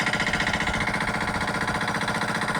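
A village farm's water pump motor running to irrigate a field thumps in a steady, fast mechanical rhythm, loud and continuous with no pauses.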